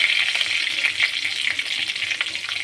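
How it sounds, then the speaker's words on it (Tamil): Green chillies and dry red chillies fry in hot oil with curry leaves, a bright, continuous close sizzle crackling along with light stirring. "போட்டு நல்லா எண்ணெயில் நல்லா வறுத்துக்கணும்."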